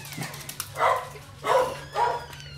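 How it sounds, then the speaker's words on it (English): Chihuahuas bark in three short, fairly faint bursts indoors at a family Christmas, spaced about half a second apart over a low steady hum, with no talking. "chihuahuas are here."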